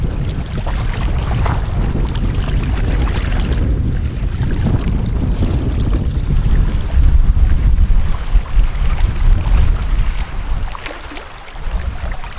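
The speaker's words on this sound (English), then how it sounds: "the wind is super strong" Strong wind buffets the microphone beside a lake in the Quebec wilderness, a loud, continuous rumbling roar with gusting swells and faint water lapping, no talk.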